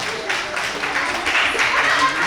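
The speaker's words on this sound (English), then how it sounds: "A round of applause again." An audience at a women's business panel event claps in a steady wash of applause, with a voice talking over it.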